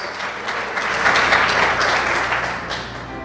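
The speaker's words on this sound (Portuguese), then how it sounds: "Você pode aplaudir o Senhor nessa noite" A church congregation applauds during an evening worship service, broad sustained clapping that swells in the middle and holds steady for the full span, with no speech over it.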